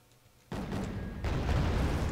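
Artillery fire booms in the war strategy video game Wargame: Red Dragon, with a sudden loud blast followed by a second heavier rumbling report, dense and continuous.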